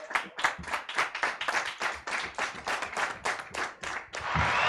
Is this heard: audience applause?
yes